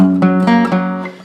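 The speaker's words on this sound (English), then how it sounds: "So that arpeggio that I'm doing is" Guitar picking a steady arpeggio from a song, ringing notes plucked one after another in even succession, close and clear with no voice over it.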